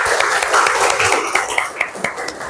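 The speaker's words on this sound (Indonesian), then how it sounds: "Beri tepuk tangan dulu." Students in a Grade 7 Indonesian-language class clap for a group that has just presented, a short burst of scattered, uneven claps with a few sharper slaps standing out and some faint voices mixed in.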